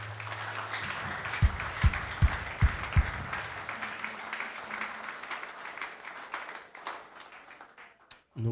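Church congregation applauding to acclaim the Lord, sustained crowd clapping with a few sharp thumps early on, fading toward the end, fairly loud and close, crowd voices faintly mixed in.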